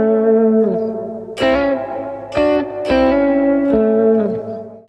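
A bluesy electric guitar lick, with bent notes and sharp picked attacks ringing out close and loud with some reverb, played alone.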